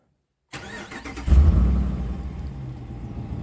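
A Dodge RAM pickup truck engine cranks and starts after silence, catching into a deep rumble that swells briefly then settles into a steady idle close by.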